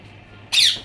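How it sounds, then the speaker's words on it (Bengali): A ring-necked parakeet at a rooftop bird farm lets out a single loud, harsh call that breaks a quiet background and fades quickly. "এগুলো হচ্ছে রিংনেট।"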